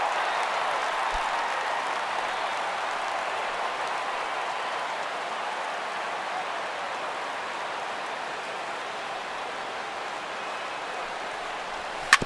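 Stadium crowd of over 28,000 cheering in the MLB The Show 16 baseball video game, a steady, dense roar of applause and noise running throughout with no pauses.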